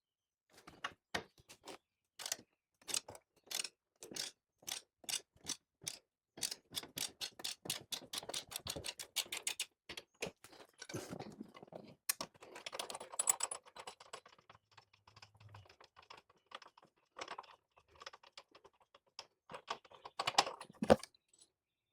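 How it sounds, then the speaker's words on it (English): A hand ratchet loosens the upper control arm bolt on a third-generation Toyota Tundra, clicking in a long, even run of sharp ticks that speeds up, then gives way to scattered rattling and clanks of metal near the end. "we have enough room on this side to loosen up this bolt and then slide it all the way out."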